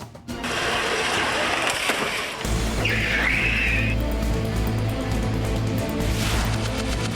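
A car runs at 30 and 40 km/h on a pedestrian crash-test track, producing a steady low engine hum and whirring road noise after a brief noisy start.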